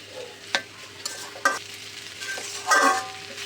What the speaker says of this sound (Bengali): আগে থেকে লবণ হলুদ দিয়ে সিদ্ধ করে রাখা ডুমুরগুলো আমি এখন এর ভেতরে দিয়ে দেব এবং এটা মশলার সঙ্গে খুব ভালো করে আবারও কষিয়ে নেব